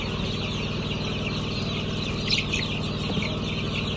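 Healthy young chicks on a farm, around the time of debeaking, cheep and peep continuously in a dense, overlapping chorus close by, with a brief louder call near the middle.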